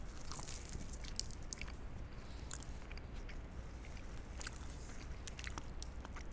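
Quiet, close chewing and soft crunching as someone eats a cheesesteak melt with ranch dressing, with irregular small bites and mouth sounds over a faint background hiss.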